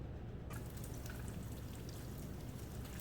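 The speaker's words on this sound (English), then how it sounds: "now our water is to a boil" Water at a hard boil in a cooking pot, ready for pasta, gives a steady, close bubbling and rolling hiss that runs throughout without any voices.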